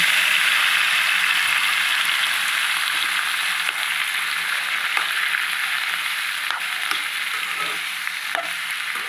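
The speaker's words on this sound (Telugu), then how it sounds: "నూనె పోసి ఈ టమాటాలు వేసేస్తున్నాను" Tomatoes frying in oil in a pan for a tomato pickle, a loud continuous sizzle with scattered scraping stirs and small clicks of a spoon against the pan.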